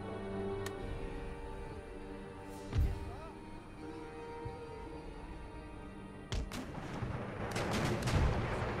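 Artillery fires in an Empire Total War battle as a few faint, distant booms and thumps over a steady low rumble of battlefield ambience.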